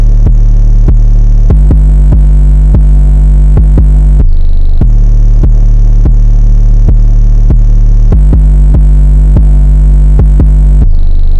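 A loud, punchy 808 bass line plays in a choppy repeating pattern, short sharp-attack notes with brief gaps and a steady, throbbing low end.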